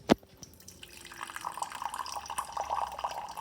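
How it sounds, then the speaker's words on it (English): A Water Drops A1 dispenser pours water into a mug, with a thin steady trickle and splashing that follows a sharp click at the start, heard up close with no talk. "I do notice that the water starts off running fast and then starts to slow down."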